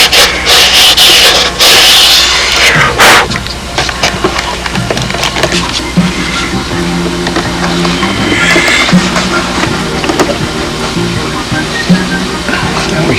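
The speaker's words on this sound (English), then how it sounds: "the final thing will be just to have some sandpaper on top of the fuselage." Sandpaper rubbing across a 2004 Windy flap fairing being fitted to the fuselage, a loud harsh scraping for the first few seconds, then steadier, softer rubbing strokes with workshop hum beneath.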